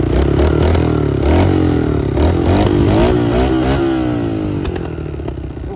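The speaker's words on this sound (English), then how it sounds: "Gotta give it a little bit of gas. That's the way these older bikes are." An older motorcycle engine runs loud and close on its first ride, with revs rising and falling under the throttle in a continuous, slightly rough drone and no talking.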